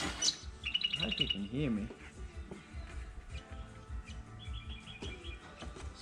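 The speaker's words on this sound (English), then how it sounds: "Especially over those damn birds." Small birds chirp and tweet outdoors in short repeated bursts, fairly near, mixed with someone talking nearby while working on a timber floor install in a VW Kombi.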